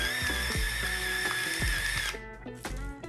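An electric pepper grinder whirs steadily as it grinds peppercorns, a close, high motor hum lasting about two seconds before cutting off, followed by faint rattling and handling clicks.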